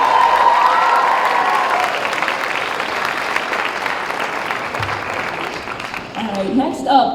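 Applause from a cultural night showcase audience after a poem, thick steady clapping that gradually tapers, with a person starting to speak over it at the end.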